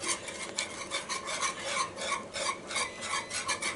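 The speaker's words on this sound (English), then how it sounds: "get this into a nice stir" Cornmeal mush stirred in a cast iron pan: a spoon scrapes and rasps against the iron in a steady back-and-forth rhythm, close and moderately loud, with no talking.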